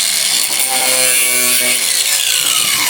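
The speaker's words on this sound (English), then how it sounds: "Trying a different tactic on the passenger side with an angle grinder." An angle grinder works loudly and continuously on the wheel arch of a BMW G80 M3, a harsh, steady high whine of abrasive on metal that shifts slightly in pitch as it bites.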